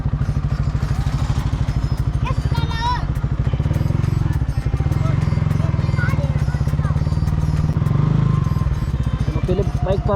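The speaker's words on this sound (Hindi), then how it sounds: "पहले बाइक पार्क करते हैं।" A motorcycle engine runs steadily and loudly while the bike is parked at a festival, the low engine drone continuous under people talking nearby.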